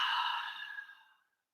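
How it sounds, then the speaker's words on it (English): A single long exhale through the mouth closes a breathing exercise, a soft airy breath that is close and clear, fading out over about a second and a half into silence. "Exhale through the mouth."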